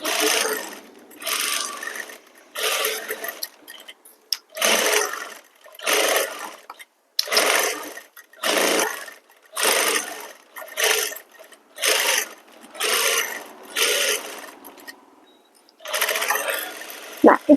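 Sewing machine stitching stretchy fabric held taut, running in about a dozen steady bursts of roughly a second each with short pauses between, loud and close with no talk.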